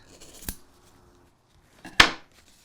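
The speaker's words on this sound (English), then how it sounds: "I cut from the middle out" Scissors snipping gift ribbon tails, two separate close, sharp cuts about a second and a half apart, the second louder, in a quiet room.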